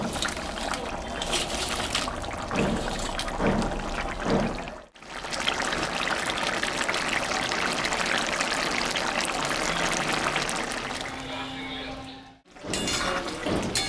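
Hot water poured into a pan of jackfruit curry with small puti fish, a steady close splashing stream running almost continuously with two brief breaks.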